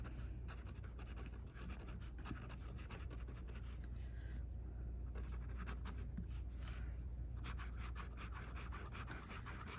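An extra fine Sailor Pro Gear fountain pen nib scratches steadily across paper in fast, continuous strokes, a close, pencil-like rasp with brief pauses between words.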